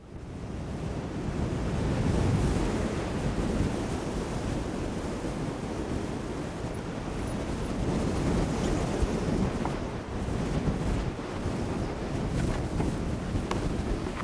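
Strong, gusty wind roars across the microphone just below the summit of Meall Gorm in the Fannichs, a continuous heavy buffeting rumble that swells and eases without any voices.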